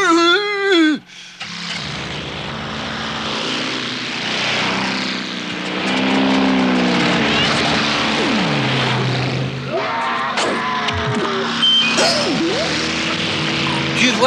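A steady propeller aircraft engine drones throughout, loud and close, with voices and singing occasionally rising over it.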